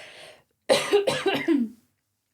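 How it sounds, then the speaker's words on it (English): A few harsh coughs in a quick cluster, close and fairly loud, after a brief faint sound at the start. "I just need to cough."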